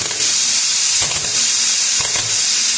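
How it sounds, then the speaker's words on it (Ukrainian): The pilot arc of a three-phase plasma cutter gives a loud, steady hiss as it repeatedly tries and fails to ignite, with a couple of brief crackling bursts and no speech. "Пілотна дуга."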